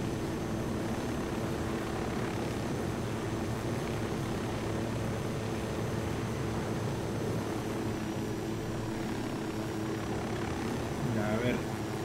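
Helicopter in Ghost Recon Wildlands with a steady, loud rotor and engine drone held throughout, players talking in Spanish over it.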